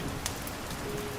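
Steady rain falls outside a medieval monastery at night, a soft, even hiss of drops on surfaces with no break, close and constant throughout.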